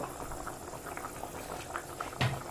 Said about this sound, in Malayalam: നല്ല തിളച്ച് വെന്തിട്ടുണ്ട്